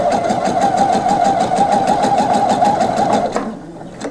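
A sewing machine stitching a dart on a blouse: a fast, even mechanical whirr of needle strokes running steadily up close for over three seconds, then stopping abruptly, with a brief click afterward.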